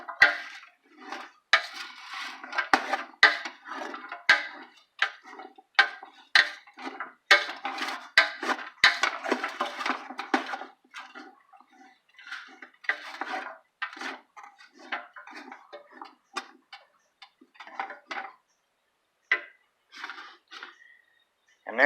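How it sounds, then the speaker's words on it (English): A spoon stirs onion and minced garlic cooking in a pot, giving irregular scraping and clinking taps against the metal, close and moderately quiet, thinning out toward the end. "you just want to get it all stirred up and starting to cook the onion"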